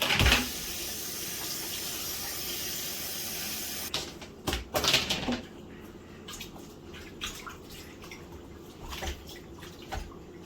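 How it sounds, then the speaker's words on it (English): Rice gets washed under running water while cooking at home: a steady stream of water pours for several seconds, then stops, followed by close sloshing, swishing and dripping as the grains are rubbed in a bowl. "Jamori is washing the rice"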